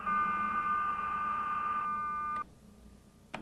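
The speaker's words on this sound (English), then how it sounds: "Now these two high-speed modems are interconnecting." Two high-speed modems connecting over a phone line, steady overlapping handshake tones holding for about two seconds, then dropping away to a faint single tone, followed by a couple of short sharp bursts near the end.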